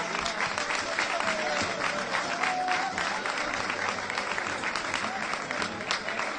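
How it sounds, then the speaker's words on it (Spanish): Steady applause from a crowd at a street protest in a Murcia neighborhood, dense continuous clapping at moderate level with faint voices mixed in. "Fuerte aplauso."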